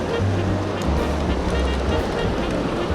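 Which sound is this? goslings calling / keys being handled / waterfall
waterfall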